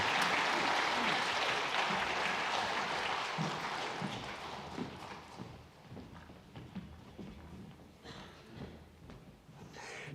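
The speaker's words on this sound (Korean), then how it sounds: "다시 한번 박수하겠습니다." A church congregation at a Sunday worship service breaks into loud, dense applause that gradually thins and fades, leaving scattered claps and faint movement toward the end.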